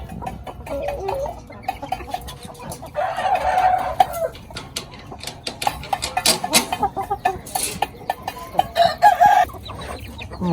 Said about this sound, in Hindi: इन्होंने अब अजान देनी भी शुरू कर दी है, इनमें से 2 मुर्गों ने।